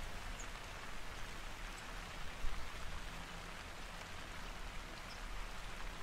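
Steady rain falls on Mount Leviathan in theHunter: Call of the Wild, a dense even hiss of drops with a faint low rumble of wind on a cold day, continuous and unbroken with no voices.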